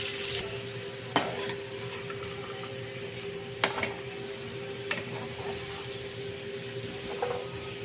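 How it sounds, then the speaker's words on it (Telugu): Beetroot pieces frying in a pan, stirred with a ladle: a steady soft sizzle with a few sharp scraping clicks of the ladle against the pan, close by, no talking. "ఇలా బీట్రూట్ అంతా వేసుకున్న తర్వాత ఒక్కసారి గరిటెతో తిప్పుకోవాలి."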